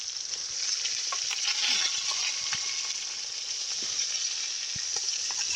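Back strap meat sizzles in a pan outdoors during ice fishing, a steady close crackling hiss with small pops throughout and no talking.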